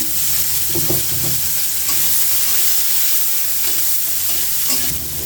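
Cumin, nigella seeds, onion, green chili and garlic sizzle hard in hot oil for a tempering, a loud, close, continuous crackling hiss broken by the scrape of stirring, with no talking.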